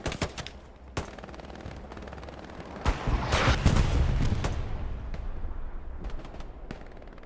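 Gunfire in the Hell Let Loose video game set in Hurtgen Forest: sharp single shots at intervals, then a louder burst of heavy, rumbling fire at the middle, followed by scattered distant shots.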